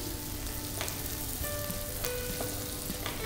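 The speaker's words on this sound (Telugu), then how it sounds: "కరివేపాకు వేసుకొని అలా ఫ్రై చేసి" Curry leaves fry in hot oil in a pan for a prawn masala, giving a dense, even crackling sizzle with occasional faint utensil clinks and no talking.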